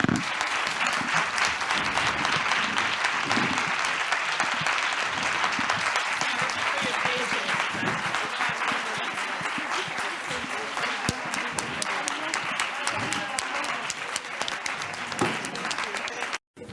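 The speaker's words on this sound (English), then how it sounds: "I would like to give a round of applause to these founders and fighters" Sustained, dense applause from a conference audience fills the room for the full length, a loud steady wash of many hands clapping with no break until it cuts off abruptly at the end.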